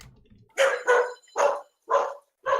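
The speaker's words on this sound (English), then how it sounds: "Sorry about the dogs." Several dogs bark indoors in a rapid string of five loud, close woofs at an uneven rhythm, preceded by faint low talk in the room.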